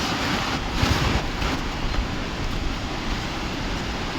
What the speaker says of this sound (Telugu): మహాలద్ద వాటర్ ఫాల్స్